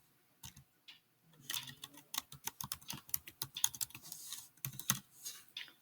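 Quick, irregular keystrokes clatter on a computer keyboard, close and crisp, in short bursts over several seconds with no voices.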